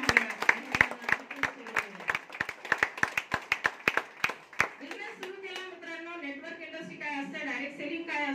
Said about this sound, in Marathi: तर दाभाडे सरांसाठी एकदा जोरदार टाळ्या